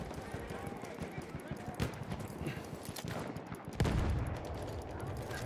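Gunfire rattles through a Battlefield 1 match in irregular bursts of shots, with a heavier blast near the end, while in-game noise and voices mix underneath.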